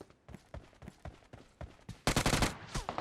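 Gunfire in PUBG Mobile: a series of separate sharp shots at an uneven pace, then a sudden loud burst of rapid automatic fire that continues to the end.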